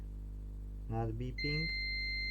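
Short electronic beeps from a PlayStation 5 console board with a power fault sound in a quick burst, then a sustained high electronic tone holds steady over a constant low hum, up close.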